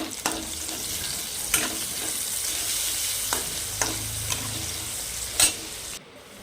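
Salted, drained ash gourd and green chillies frying in a pan, a continuous close sizzle broken by several sharp stirring scrapes and knocks.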